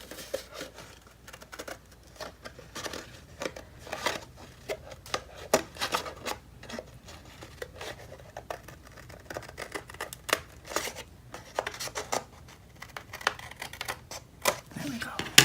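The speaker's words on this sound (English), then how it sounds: "I'm just going to trim that a little bit." Paper being trimmed for a papercraft project, a run of crisp, quick scissor snips and rustles in irregular clusters, close and fairly quiet, with someone talking in between.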